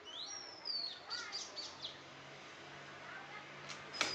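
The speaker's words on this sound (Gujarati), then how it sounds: "કબૂતરનું બચ્ચું હે કબૂતર." A pigeon and its chick make thin, high chirps and squeaks in short bursts near the start, followed by quieter calls and a faint room background.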